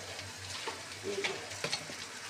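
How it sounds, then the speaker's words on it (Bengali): Onions frying in oil with salt and turmeric added, a steady soft sizzle with a few light stirring scrapes at moderate, fairly quiet level, no one talking. "এগুলো পেঁয়াজ সব ভালোভাবে ভাজা হোক।"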